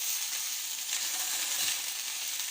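Carrots and mixed vegetables sizzle steadily in a pan with very little oil, a continuous close hiss with a soft stir partway through and no voices.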